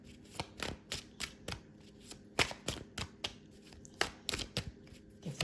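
Tarot cards being shuffled by hand, a close series of sharp riffling snaps and papery slaps in uneven bursts, with no talking over them.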